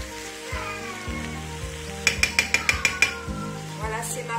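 Tomato and onions cooking in a pan as filling for mhadjeb, a soft steady sizzle under quick metallic clinks of a utensil against the pan, with a background music tone.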